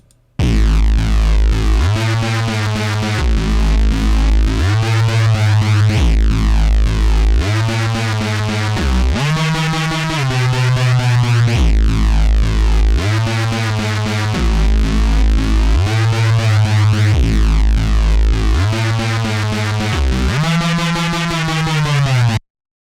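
Gritty Reese bass patch built in FM8 with no post-processing, a loud, distorted, detuned low bass playing repeated sustained notes with shifting pitch and phasing movement for over twenty seconds, no voice.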